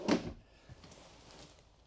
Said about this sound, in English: So you got two drawers on the sides of the dinette.